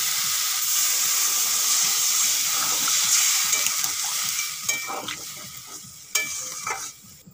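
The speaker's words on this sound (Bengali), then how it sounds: "কলাগুলো বেশ ভালো করে ভেজে নিয়েছি। এখন দিয়ে দেবো জল।" Water goes into a hot pan of fried raw banana pieces, a loud steady sizzle and hiss that gradually subsides into scattered crackles and sharp spatters as the liquid settles.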